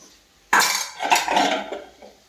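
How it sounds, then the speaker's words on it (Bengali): Metal kitchen utensils and pots are lifted and a bowl is pulled out, a sudden loud clatter followed by a second burst of clanking and rattling that fades away, close by. "এই বাসনগুলো নামিয়ে এই গামলাটা বের করবো।"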